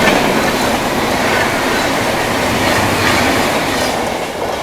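Vikramshila Express passenger train speeding past on the railway track, a loud, continuous close rumble of wheels and wagons with clickety-clack running through the whole pass and a slight fade at the end.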